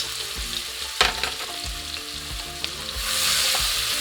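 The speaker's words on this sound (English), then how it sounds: "we're going to cook this about 3 to 5 minutes so the onion starts getting soft" Onions cook in a pot over low-medium heat for potato soup, giving a steady close sizzle with occasional stirring knocks and clinks, the frying swelling a little louder toward the end.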